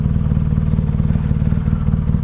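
A BMW R nineT 1200cc motorcycle engine runs while riding, a loud, steady low rumble with rapid even pulsing that stays constant throughout, with no talk.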